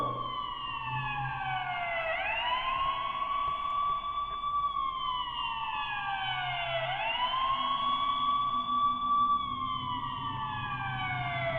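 An emergency siren in a repeating wail, rising and falling steadily, heard at moderate distance over a low background rumble.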